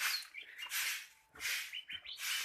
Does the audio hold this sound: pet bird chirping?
yes